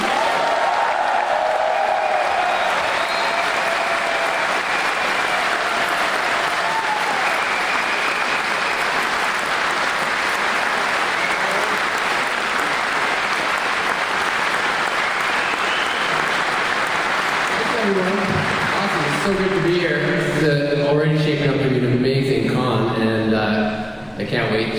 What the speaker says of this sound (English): Everybody, a big cheer for Daniel Ingram.